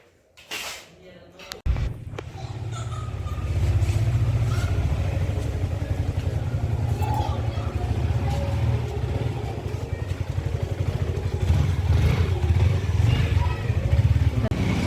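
A Yamaha R15 motorcycle starts up after a few clunks and then runs steadily, its engine rumbling close and loud with a rapid even pulse while the rider moves along, with a voice heard briefly.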